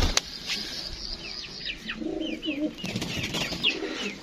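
Karbalai pigeons coo softly amid busy background chirping, with a few brief flutters of wings; the birds sound close and continuous throughout.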